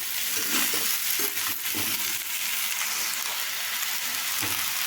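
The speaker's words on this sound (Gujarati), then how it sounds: "હવે દૂધીને એડ કરી દઈશું હલાવી દઈશું મિક્સ કરી દઈશું" Bottle gourd stirred and fried in a pan with spices, an even sizzling hiss broken by rhythmic spatula scrapes and soft knocks, heard alone and close.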